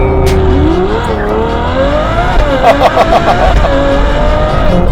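A Novitec Ferrari 812 N-Largo's 6.5-litre naturally aspirated V12 revs hard and close, its pitch sweeping up and down through gear changes with a brief burst of rapid pulses midway, loud throughout.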